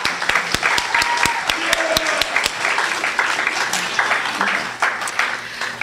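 A classroom of high school students claps steadily at the end of a public speaking final, with sharp individual claps standing out from the crowd and a few brief voices and whoops mixed in.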